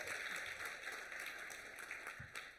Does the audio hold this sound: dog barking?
no